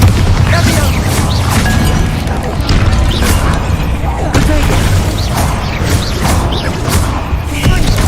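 Incendio and Bombarda spells go off in Hogwarts Legacy as a dense, loud barrage of booms, crashes and bursts that piles up continuously over a rumbling battle din.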